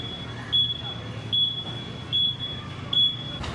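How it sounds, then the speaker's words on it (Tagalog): A high electronic alarm on a 2025 CF Moto SC 150 motorcycle chirps in four short, evenly spaced bursts, moderately loud over a faint background hum. "Gito yung tunog ng alarm niya"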